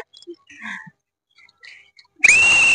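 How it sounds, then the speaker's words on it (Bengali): Quiet murmured voices, then a sharp, loud whistle blast bursts in near the end and holds steadily, starting a game. "বাঁশি বাজানোর সাথে সাথে খেলা স্টার্ট হবে।"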